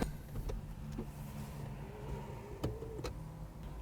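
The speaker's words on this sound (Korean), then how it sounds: "제가 알기로는 네. 이 차에 시동을 끄면 네. 그 변속 다이얼이 내려가는 걸로 알고 있거든요." Inside a Jaguar, the motorized rotary gear selector dial whirs briefly as it automatically shifts to park and retracts into the console after the engine is switched off, a faint short mechanical hum over quiet cabin background with small clicks.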